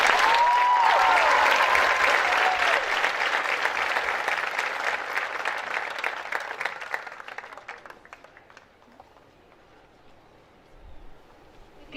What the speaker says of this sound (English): please give a big round of applause for the best principal an Eagle could ask for, Miss Wagner.